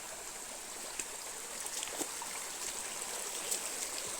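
A river or stream flows steadily outdoors, a constant soft rush of water with faint trickling detail throughout, fairly quiet and with no voices.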